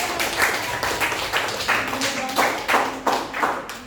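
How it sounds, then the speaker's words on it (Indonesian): A small gathered audience claps in a loose rhythm of distinct bursts, roughly every two-thirds of a second, with some talk underneath. "tepuk tangan dong teman-teman"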